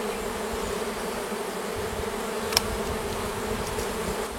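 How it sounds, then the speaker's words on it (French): A small swarm of bees in a Japanese hive, a steady close buzzing drone throughout with a single brief click midway. "vous voyez, un joli petit essaim"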